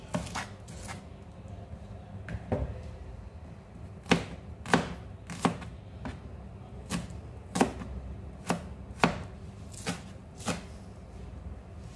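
A knife slices an onion on a cutting board, making about a dozen sharp, crisp taps at uneven intervals. Some strikes are louder and closer than others, over a quiet kitchen background.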